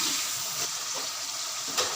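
Potatoes fry in a pan for aloo chicken shorba, giving a steady, close hiss of sizzling oil with no break.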